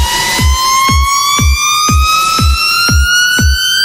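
Synth tuned riser building up in Logic Pro X, with a noise layer on top. A loud, pitch-rising tone climbs steadily over a punchy low kick that thumps about twice per second.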